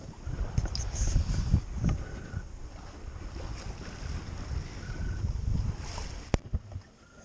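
A sailing boat underway at sea, with steady wind rush and water washing along the hull, a few creaks and knocks from the boat, and a sharp clunk near the end.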